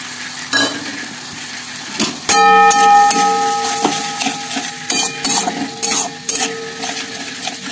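Spices and tomato stirred in a cooking pan, with a spoon scraping and clinking against the metal over a steady sizzle. Several distinct scrapes come through at close range, and no one speaks.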